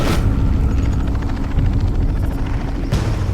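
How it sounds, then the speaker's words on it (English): Helicopter arriving over African bush to dart an animal, a loud continuous rotor thump and engine roar filling the whole stretch, close and steady with no speech. "The helicopter arrives."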